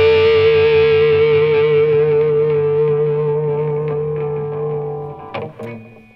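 A sustained distorted electric guitar note wavers with vibrato, slowly fading, then a few brief scratchy hits and a thin feedback tone at the end.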